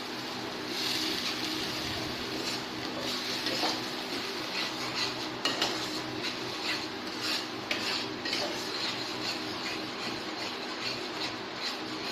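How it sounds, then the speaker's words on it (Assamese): Ginger garlic paste frying in a pan for Afghani chicken with chicken leg pieces, with a steady sizzle and metal utensil scraping and clinking against the pan as it is stirred, close and continuous throughout. "এয়া আদা নহৰু পেষ্টটো ইয়াত ঢালি দিম। ঢালি এইখিনি ভাজি থাকিম।"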